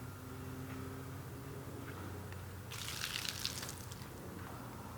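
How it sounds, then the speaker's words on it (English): Water splashing and gushing as a car wash mitt is rinsed and squeezed out beside a soapy bucket while washing a Camaro SS, a low trickle first, then a louder burst of dribbling water near the end. "you want to rinse off your mitt as much as you possibly can"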